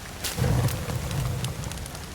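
Steady rain falls outdoors at a camp during a fire-lighting attempt, a soft even hiss with scattered light pattering over the short stretch.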